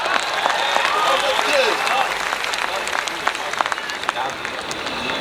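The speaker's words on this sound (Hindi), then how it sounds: "आप तालियां बजा सकते हैं।" Audience at a Hindi kavi sammelan poetry gathering claps, brisk scattered hand claps over a murmuring crowd, with louder individual claps standing out toward the end and background chatter throughout.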